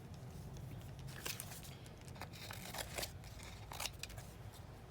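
Scissors snip through paper while cutting out a drawn bird shape, giving quiet, close, irregular crisp clicks and rustles over a faint background.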